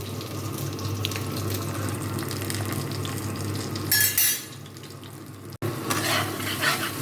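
Green banana curry sizzles steadily in a hot pan with a low hum beneath, followed by stirring clatter and a brief scraping of utensils.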